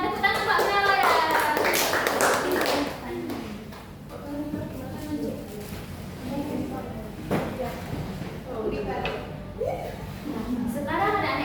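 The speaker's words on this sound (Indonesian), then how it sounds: "Udah, tepuk tangan Pak Mela ya." Children in a classroom micro-teaching lesson clap for Pak Mela in a brief, dense burst of tapping claps at the start, followed by talking voices and scattered noise.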